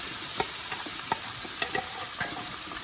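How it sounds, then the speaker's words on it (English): Onions with spices crackle and sizzle in hot oil for a Durban-style breyani, a steady frying hiss dotted with small pops and the occasional stir. "we are going to add the onions with the spices into it"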